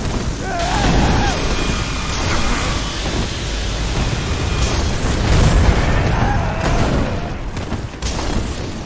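A laser weapon firing in the video game Bloodborne, a loud sustained roaring blast like a continuous explosion that fills the whole stretch, with a player speaking briefly over it.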